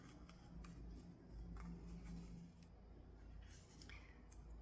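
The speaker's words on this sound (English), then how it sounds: "We can then cut our working end" Scissors snip through the working end of crochet yarn after finishing a beginner ghost, giving faint, close crisp cuts and light rubbing ticks against a quiet background.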